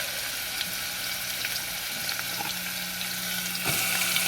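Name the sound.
onions sizzling when thrown into pan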